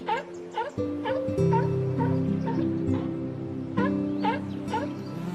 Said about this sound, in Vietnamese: Sea lion.